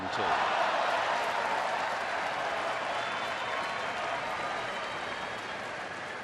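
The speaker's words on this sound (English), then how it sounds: "from the reaction of the crowd, somebody made a good play" A baseball stadium crowd cheering at a good play during an Angels at Dodgers game, a broad roar with scattered applause swelling at the start, then slowly easing off while staying loud.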